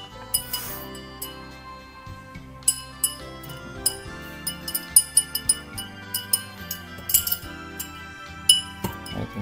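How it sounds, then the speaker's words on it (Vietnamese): A spoon clinks steadily against a glass while stirring butterfly pea flower tea for a latte, giving a run of close, bright, irregular taps with soft background music underneath. "Chúng ta khuấy nhẹ nhàng để cho đậu biếc nó"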